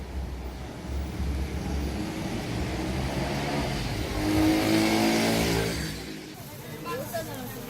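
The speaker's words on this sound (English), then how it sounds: "The amount of traffic around here is just insane." Busy street traffic in Cebu City, with a steady dense roar of cars and motor vehicles, engines revving and passing close by, swelling louder in the middle before easing off.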